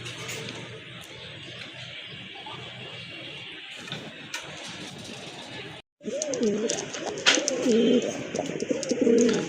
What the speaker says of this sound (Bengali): বিগ সাইজের এক জোড়া কবুতর